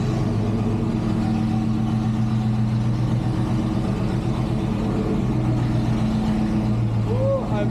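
An old Chevrolet C10 pickup with original patina paint runs close by, its engine a steady low drone with a rough, pulsing idle-like character throughout.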